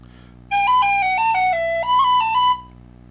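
Bellows-blown bagpipes play the opening phrase of the Leitrim Fancy, a close, steady stepping melody lasting about two seconds over a continuous low drone that hums before and after it.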